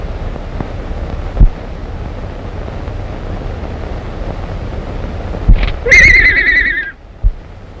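A horse in an old 1935 Western gives a loud, sharp whinny late on, after wind noise and a couple of dull thumps, with no talking.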